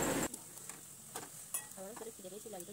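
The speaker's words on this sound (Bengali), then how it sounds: "ছাঁকা তেলে পেঁয়াজটা এখন ভেজে নিচ্ছি।" Sliced onions frying in hot oil for chicken biryani, a steady close sizzle with a short loud burst at the start and scraping stir sounds over it.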